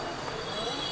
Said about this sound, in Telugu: ఇప్పుడు మెట్రో దిగుతూ ఉన్నాము.